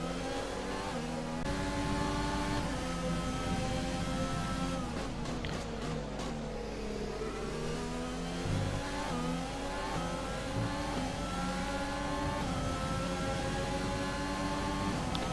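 Formula 1 cars in the F1 video game racing in a close pack, engines droning and shifting pitch with downshifts and acceleration, loud and continuous throughout.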